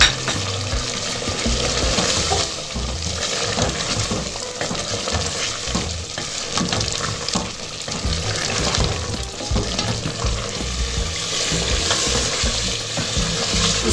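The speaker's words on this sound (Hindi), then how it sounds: "ये देखिए सारा घी ऊपर आ गया, पूरे 5 से 7 मिनट मैंने इसे भूना है।" Mutton korma sizzles loudly in desi ghee in a karahi, a dense, continuous frying crackle with constant stirring and scraping close up throughout.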